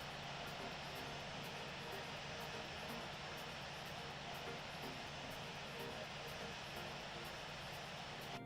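An aircraft engine at full throttle during a takeoff roll in a flight simulator, a steady loud broadband roar with a constant hum underneath, unchanging throughout.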